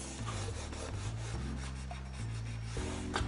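Folded paper with double-sided tape is burnished by hand for a coffee box craft, a close, steady rubbing and scraping with rhythmic strokes throughout and no talking.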